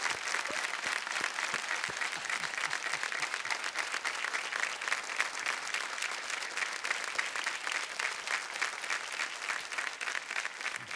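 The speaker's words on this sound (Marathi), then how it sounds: "टाळ्या वाजत राहायला पाहिजे." Studio audience applause on a celebrity quiz show set, dense rapid clapping from many hands held at an even level for the whole stretch, no voices over it.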